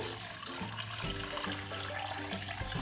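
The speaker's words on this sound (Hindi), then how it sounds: "तो इसमें थोड़ा सा पानी डाल के" Water poured from above into a bowl of raw mutton or beef pieces, a steady close splashing trickle that runs unbroken for a few seconds with no voices.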